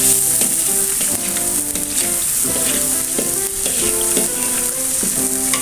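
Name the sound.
water spinach added to frying balado chili paste, sizzling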